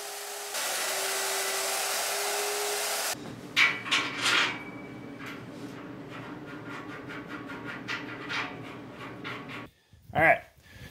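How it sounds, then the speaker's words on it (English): A magnetic drill whirs with a steady motor drone while boring holes into steel channel iron for a shipping container dolly build, then stops, followed by scattered metallic clicks and knocks nearby. "Now I'm going to take the mag drill and drill these holes into the channel iron."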